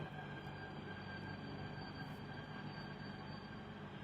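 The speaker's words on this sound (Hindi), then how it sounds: "रेड लाइन की मेट्रो आज शुरू की गई है" Delhi Metro Red Line train running, a steady, moderately loud rumble of wheels and motors with a faint high whine, continuous throughout with no talking.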